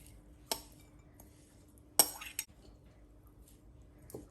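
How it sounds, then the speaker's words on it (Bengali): A spoon or utensil clinks against a bowl while chopped onion, spices and prawns are mixed for lau patar paturi, giving a few sparse metallic knocks with quiet gaps between them, close by, with no talking. "আমি এখন পেঁয়াজ কুচি দিয়ে সাথে যে মশলাগুলি রেখেছিলাম এগুলিকে মিক্স করে নিচ্ছি, আর সাথে দিয়ে দিচ্ছি চিংড়ি মাছটা"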